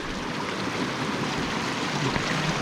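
A mountain river in the high Himalayan Miyar valley rushes steadily past: a dense, unbroken wash of flowing water, loud and close, with no voices.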